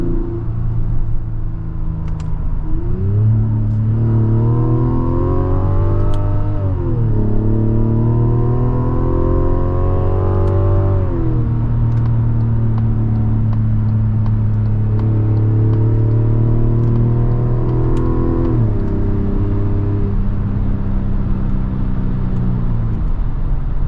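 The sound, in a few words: 2026 Mazda CX-90 Turbo Premium Plus driving around town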